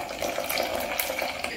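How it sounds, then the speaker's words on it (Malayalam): Water splashes steadily into a mixer jar while rinsing it for dosa batter, a close, continuous pouring gurgle with no talk. "ഇനി നമുക്ക് ഈ ജാറൊന്ന് കഴുകി കുറച്ച് വെള്ളം കൂടി ഇതിലേക്ക് ഒഴിച്ചു കൊടുക്കാം"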